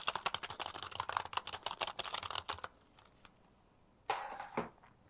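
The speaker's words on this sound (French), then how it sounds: "Et là, on va prendre un clavier bas de gamme de chez Amazon." Typing on a cheap budget computer keyboard bought on Amazon: a dense run of quick, clacky keystrokes for over two seconds, then a near-silent pause with a few isolated taps and a final short burst of keys.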